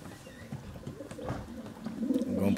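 Janssen Vos racing pigeon cock cooing softly in a loft, low murmuring coos rising toward the end amid faint rustling and background noise.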